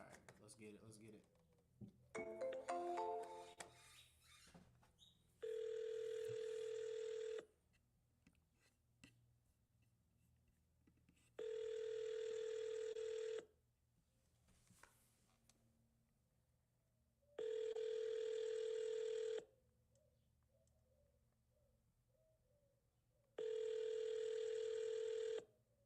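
Ringback tone on an outgoing phone call to a seller: four evenly spaced, steady two-second rings, separated by quiet pauses with faint room noise in between.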